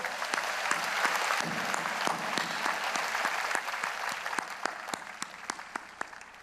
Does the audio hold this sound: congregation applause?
yes